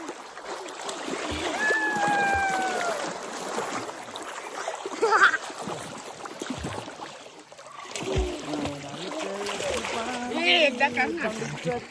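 Villagers splashing about while bathing in a hot spring pool in Konkan, with water sloshing and splattering throughout and several people talking and calling out over it.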